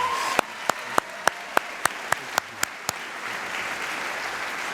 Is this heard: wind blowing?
no